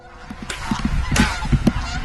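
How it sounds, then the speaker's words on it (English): Geese honk in short repeated calls as a flock passes directly overhead, several voices overlapping at close to moderate distance. "a flock of geese appear directly overhead"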